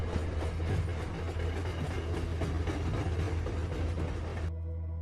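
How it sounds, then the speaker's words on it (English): Train rumbling through a deep underground railway tunnel, a steady loud roar with clattering wheel noise filling the space, then cutting off abruptly near the end. "And that was a train I heard."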